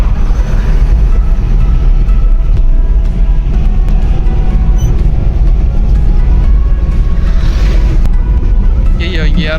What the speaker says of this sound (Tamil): இப்போ நம்ம என்ன ஸ்பீடில் போயிட்டுருக்கோம்னா ஒரு ட்ரெயினையே ஓவர்டேக் எடுத்துகிட்டு போயிட்டுருக்கோம்